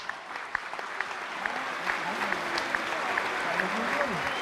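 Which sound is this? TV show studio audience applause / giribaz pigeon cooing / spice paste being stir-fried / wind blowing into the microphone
TV show studio audience applause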